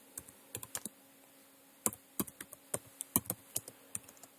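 Python code is typed on a computer keyboard in uneven bursts of crisp key clicks, with a short pause in the middle and a faint steady hum behind, close and fairly quiet.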